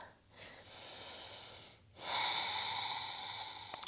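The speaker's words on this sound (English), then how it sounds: "Finding your ujjayi breathing." Ujjayi breathing during a yoga session, held in downward facing dog: two long, soft, hissing breaths with an oceanic rasp, the second louder and steadier, close and quiet with no talk.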